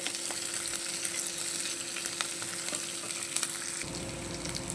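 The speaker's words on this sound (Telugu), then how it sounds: "పచ్చిమిరపకాయలు కూడా వేసుకొని కొంచెం పచ్చివాసన పోయేంత వరకు కొంచెం ఫ్రై చేసేసుకోండి" Thinly sliced green chillies frying in oil for hotel-style masala dosa potato masala, a dense continuous sizzle with scattered crackles and light stirring, close and steady throughout.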